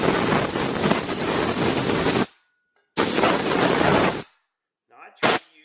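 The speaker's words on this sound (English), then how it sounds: "I'm going to take the air gun and I'm going to blow down in here" Compressed air gun blasting down into a vent-free gas heater's main burner: two loud, sustained roaring bursts of about two seconds each with a short gap, then a brief third puff.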